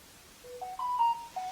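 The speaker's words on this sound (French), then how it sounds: "c'est mon téléphone." A mobile phone plays its ringtone, a few short rising electronic tones in quick succession, fairly faint against a quiet room.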